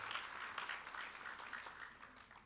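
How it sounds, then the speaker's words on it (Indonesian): Audience applause at an insurance leadership talk in Indonesia, a steady wash of clapping that holds at moderate loudness throughout and fades slightly toward the end, with no voices over it. "Boleh tepuk tangan yang sangat meriah untuk Bapak Denny Utama Hartono"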